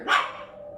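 A pet dog gives a single sharp bark, fairly close and clear, then falls quiet.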